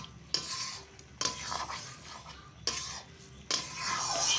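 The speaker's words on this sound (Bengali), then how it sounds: "এবার আবারও সমস্ত কিছু ভালোভাবে মিশিয়ে নিচ্ছি।" Masoor lentils and jute leaves are stirred in a sizzling pan, with four distinct bursts of scraping, rustling strokes over a soft background fry, close and moderately loud.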